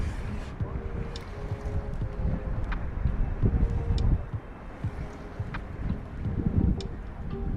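Wind buffets the microphone while someone fishes for snapper from a kayak in shallow inshore New Zealand water, a rough, gusty rumble with scattered small knocks and clicks.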